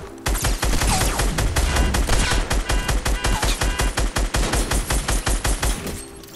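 Rapid automatic gunfire in the Fortnite video game, a dense loud burst of shots that settles into a steady rhythmic stream of cracks before stopping, with no talking.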